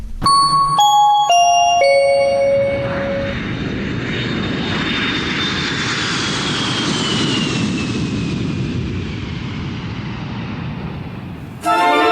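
A descending series of bright chimes opens, then a fixed-wing airplane engine roars steadily and loudly, swelling and holding for several seconds. Another short chime sounds near the end.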